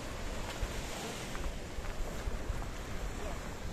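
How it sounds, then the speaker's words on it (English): Choppy sea waves washing and slapping, heard with steady wind buffeting the microphone and a constant roar of surf close by. "The sea's a little bit chopsy"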